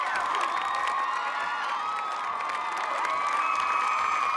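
A packed crowd at an American Ninja Warrior qualifier roars and cheers nonstop, with whoops and shouts rising over a dense, steady wall of noise.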